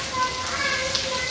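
Rain falls steadily outdoors in a village, a brief, even hiss of drops on surfaces without pause.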